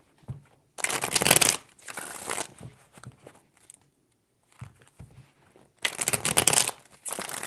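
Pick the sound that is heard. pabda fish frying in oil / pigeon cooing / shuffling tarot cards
shuffling tarot cards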